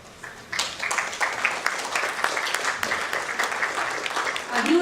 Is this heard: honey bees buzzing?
no